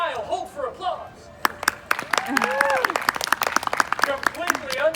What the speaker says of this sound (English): Completely unsolicited applause.